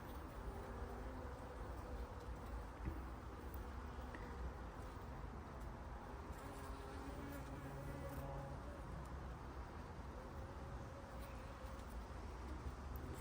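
Agitated Buckfast honeybees fill an open hive with a constant close buzzing hum, steady and unbroken throughout, with no voices over it.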